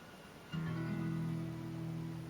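A single guitar chord strummed once after a brief quiet moment, ringing out steadily and slowly fading.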